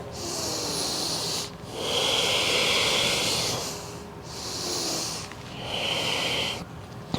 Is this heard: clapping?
no